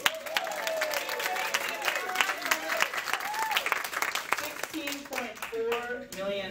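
Audience applause at a live comedy-style talk, a burst of clapping and cheering mixed with voices and whoops from the crowd, fairly close and continuous.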